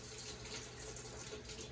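Tap water runs steadily into a sink as a brush is rinsed under it during dental instrument sterile processing, a continuous close splashing flow with no talk.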